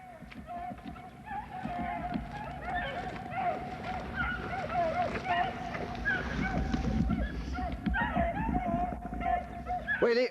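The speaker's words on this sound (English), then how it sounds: "The dogs are coming." Black and tan hunting hounds bay and yelp on a swamp rabbit hunt in the woods, their cries rising steadily and overlapping from some distance, with people talking quietly now and then underneath.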